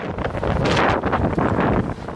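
Strong wind gusting at up to 80 km/h roars and buffets against the microphone, a loud, rough, continuous rush with swelling surges and no voices.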